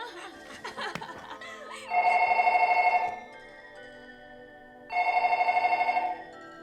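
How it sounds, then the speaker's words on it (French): An old-style telephone bell rings twice in a living room in the horror film Ring, each loud ring lasting about a second, with a faint snicker and murmurs before the first ring. "jusqu'à ce que le téléphone sonne dans le salon."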